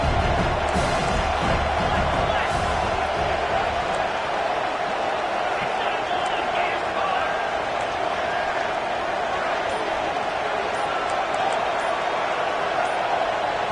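A stadium crowd roars at a college football game on a tight third-and-short play, its steady, loud wash lasting throughout beneath a commentator's voice.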